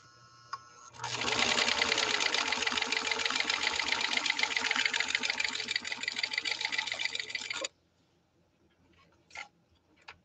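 A Husqvarna 21A sewing machine runs a 2.5 by 2.5 zigzag stitch, a loud, steady whirring rattle lasting about six seconds before stopping abruptly, followed by a few faint clicks.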